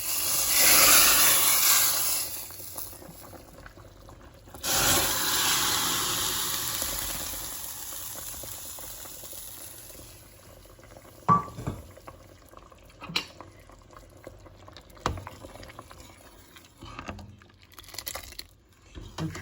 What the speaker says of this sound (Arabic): بنخليهم يغلوا مع الكزبرة والثوم شي 5 دقايق